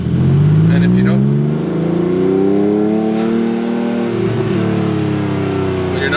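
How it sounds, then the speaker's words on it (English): A Porsche 996 with Favspeed muffler bypass pipes and GT3 cup style tips revs loudly up close, the engine note rising and falling in sustained pulls. "really sounds like a GT3 cup car, the Favspeed muffler bypass GT3 cup style tips will do it for you"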